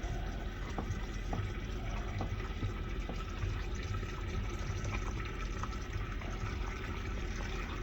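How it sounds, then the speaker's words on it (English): Water pours steadily into a bowl of investment stone powder, mixed by hand to a creamy consistency before a casting flask is filled; a continuous close splashing fill runs alone for the whole stretch. "Add some water."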